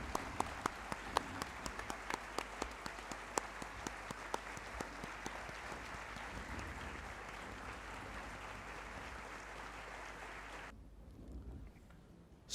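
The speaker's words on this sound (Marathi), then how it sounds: "आपण एकदा विक्रम गोखलेंसाठी आणि आपल्या सर्व स्वतःसाठी एकदा जोरदार टाळ्या वाजवूया" Loud applause from an audience greets actor Vikram Gokhale's arrival at a Marathi book launch event, a steady wash of many clapping hands with sharp individual claps, running about ten seconds before fading to quiet room noise.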